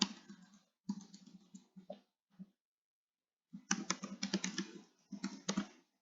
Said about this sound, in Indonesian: Kita gunakan tabulasi, tab yang ada di tombol keyboard Bapak Ibu